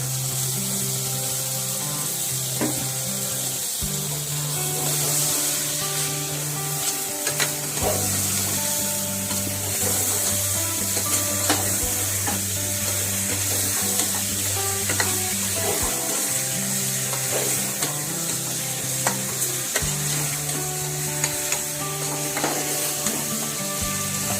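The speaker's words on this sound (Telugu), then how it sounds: "ఇప్పుడు కడిగి పెట్టుకున్న మటన్ వేసుకోవాలండి. ఇది 1/2 కిలో మటన్." Half a kilo of washed mutton frying in a pan, a steady close sizzle with occasional scraping stir strokes and clinks, a low hum running underneath throughout.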